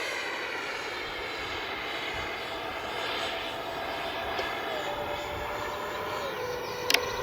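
An Arrows RC MiG-29 twin 64mm electric ducted-fan model jet taking off in the morning, a sustained whooshing turbine whine rising slightly in pitch, at a moderate distance and steady throughout.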